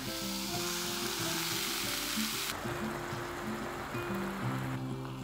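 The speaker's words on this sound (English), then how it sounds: "heat a pan and fry the tortilla with the minced meat side down for 2 to 3 minutes" A tortilla topped with minced meat fries meat-side down in a hot pan, giving a steady, close sizzle with some scraping and stirring noises running through it the whole time.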